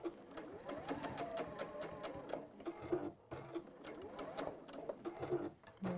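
A sewing machine stitches a fabric seam with a rapid, even mechanical clatter that runs in bursts, breaks off briefly midway and starts again, close and moderately quiet with no voices over it.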